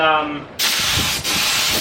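A spray gun hisses in two loud, steady bursts of underbody protection coating with a short break between them, following a brief spoken moment at the start.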